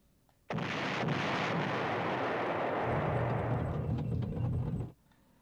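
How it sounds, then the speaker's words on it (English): Anti-aircraft fire in the retro game Panzer General on PlayStation 1, a single sustained burst of dense, rumbling gunfire lasting several seconds, loud and close, that stops abruptly, with no talking. "Stay away from enemy anti-aircraft fire."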